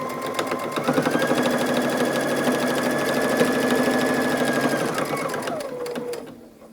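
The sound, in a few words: sewing machine stitching a zipper with straight stitch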